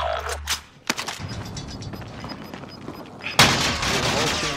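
Gunfire in a multiplayer video game shooter, bursts of sharp shots and mechanical clatter with a loud blast near the end, mixed with game effects and faint talk.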